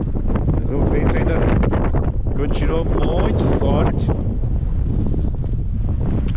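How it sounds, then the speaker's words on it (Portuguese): Strong Zonda wind roars and buffets the microphone in a dusty desert area near a glacial meltwater river and Canyon del Índio above Fiambalá, a constant loud rushing with a voice briefly under it. "Mas o vento ainda continuou muito forte."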